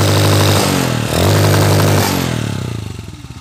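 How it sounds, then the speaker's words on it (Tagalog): A motorcycle engine revs hard against a CDI rev limiter, loud and close, the steady high drone stuttering and cutting in and out before the revs drop away. "Okay, half rev. May limiter na siya."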